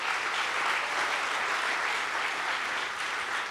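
Dense, continuous applause fills the room as the audience at a startup growth-stage pitch competition claps for the entrepreneurs, loud and even throughout.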